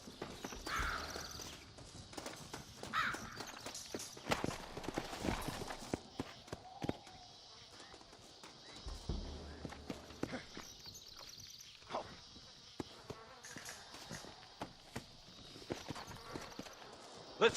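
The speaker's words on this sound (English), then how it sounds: "Looks like Carlos left us some horses" Horses walking in the Red Dead Redemption video game, hooves clip-clopping in an irregular stream of light taps over a quiet background, with occasional louder footfalls and a brief snort or whinny.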